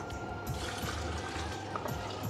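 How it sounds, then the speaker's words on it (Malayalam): Water poured into a pot for Emirati mandi with chicken, a soft continuous splashing and trickling, faint and close, with no talk over it. "വെള്ളം ആവശ്യത്തിന് വെള്ളം ഒഴിച്ചോളൂ"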